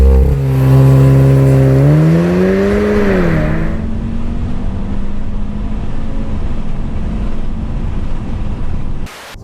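A 2015 VW Golf R Mk7 launches hard under launch control, its engine note climbing steeply for a few seconds before settling into a steady, loud drone as the car pulls away, then cutting off abruptly.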